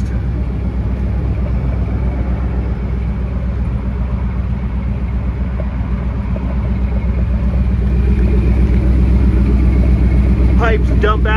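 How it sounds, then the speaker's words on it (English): A 1978 Ford F-250 Highboy 4x4 pickup with a 460 V8 idles close by, its exhaust dumping just ahead of the rear axle giving a steady deep rumble, while someone talks over it. "Nice sounding exhaust."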